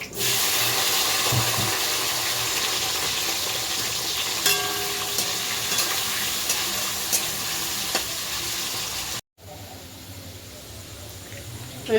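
Potato pieces fry in hot oil with a loud, steady close-up sizzle that fills the whole stretch, briefly cutting out near the end before resuming more quietly.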